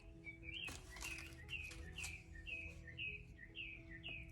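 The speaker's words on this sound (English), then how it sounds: "That is a pretty bird." Small bird chirping in a repeated, evenly spaced pattern of bright rising tweets, steady and moderately close over a low background hum, with no talking.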